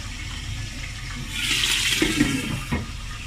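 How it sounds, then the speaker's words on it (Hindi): Water pours steadily into a pot of two glasses of pre-soaked rice, four glasses in all, for boiled white rice; a close, gushing splash swells midway and runs on for a couple of seconds, with no talking. "दो गिलास मेरे राइस थे, तो मैं क्या करूँगी, मैं 4 गिलास इसमें पानी ऐड कर दूँगी।"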